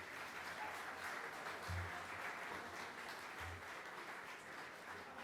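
An audience at a hackathon awards ceremony gives steady, moderately distant applause, a dense even wash of clapping with a couple of low thumps underneath.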